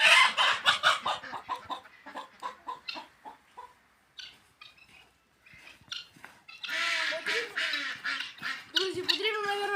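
Chickens cluck and squawk busily nearby, a loud overlapping flock with bursts of cackling and some louder calls toward the end.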